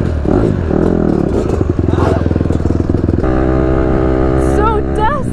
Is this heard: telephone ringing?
no